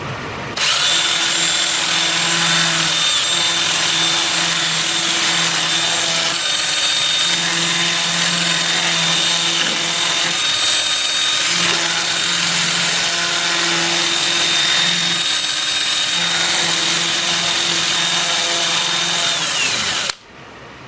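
A 2-inch sanding disc on a drill works a cherry bowl spinning in reverse on a wood lathe at about 300 RPM, giving a loud, sustained motor whine with a steady hum that pulses slightly as the disc presses on and eases off.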